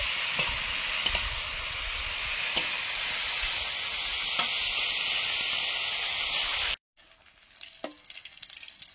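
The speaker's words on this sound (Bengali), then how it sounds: "একদিকে মাছ ভাজা হচ্ছে, আর একদিকে ওলকপি ভাজাটা করে নিচ্ছি" Catla fish and kohlrabi fry in a pan with a loud, steady sizzle and occasional pops and stirring clicks for most of the time. The sizzle then cuts off abruptly, leaving quieter room noise with a faint clink.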